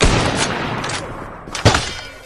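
Gunfire in an online shooter game, a dense burst of shots at the start followed by a sharp, loud report near the end, with faint game noise between.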